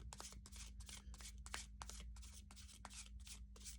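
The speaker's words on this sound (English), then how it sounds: "Let me do a little shuffle here." Tarot cards shuffled by hand in a rapid run of crisp riffling bursts, close and fairly quiet over a low steady hum, with no talking.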